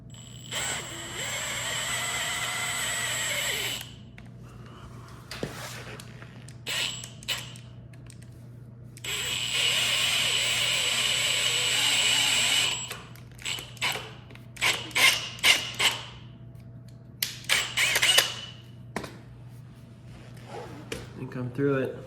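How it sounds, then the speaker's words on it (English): A power drill bores out a stripped drain plug on a KTM 50 motorcycle in two sustained whirring bursts separated by a pause. Shorter clicks and bursts of handling follow, with some talking in between. "let's drill that out"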